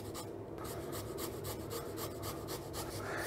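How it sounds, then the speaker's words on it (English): Fresh unpeeled turmeric root rasped on a grater over a bowl, a steady scratchy rubbing repeated in quick even strokes, close and fairly quiet. "I just grate it over the bowl."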